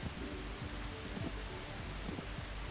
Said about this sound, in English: The rain doesn't help me spot anything.